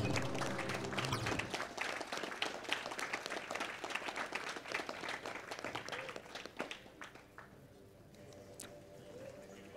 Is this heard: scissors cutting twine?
no